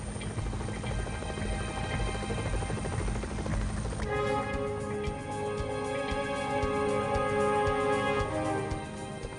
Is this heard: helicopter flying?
yes